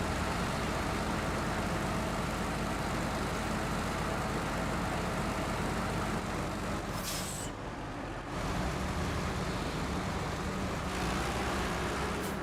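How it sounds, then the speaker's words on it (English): A heavy truck engine in the Snowrunner driving game rumbles in a loud, steady roar throughout, dipping briefly for a moment near the end before resuming, with no talking. "Its engine is so much louder than the other trucks."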